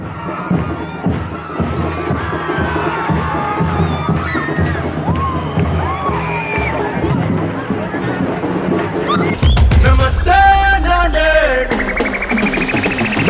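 Konale Classes students in Nanded celebrate NEET exam results with a dense, loud crowd roar and shouting over steady dhol-tasha drum beats, growing louder near the end.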